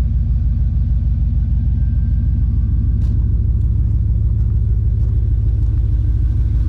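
A lowered GMC Sierra pickup with a new Speed Engineering catback exhaust idles with a deep, steady low rumble and throaty exhaust drone, close by and continuous, with a few faint clicks on top.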